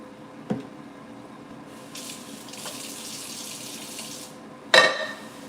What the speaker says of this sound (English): Wash this pan out real quick.